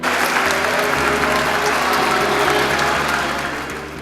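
Sustained applause from a crowd as a patron saint's statue enters a parish church during patron saint festivities in Benaguasil, dense and steady clapping that fades slightly toward the end.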